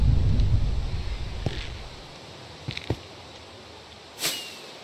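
A low thunder rumble from a Minecraft thunderstorm rolls and fades away, followed by a few faint clicks and a brief hiss near the end.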